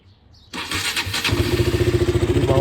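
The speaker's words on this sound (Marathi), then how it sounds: "आपण डूक स्टार्ट केलेली आहे. डूकचा साऊंड बघा." KTM Duke 200 BS4 motorcycle with a stock exhaust starting up nearby: a short starter whir, then the engine catches and settles into a loud, steady, rhythmic idle.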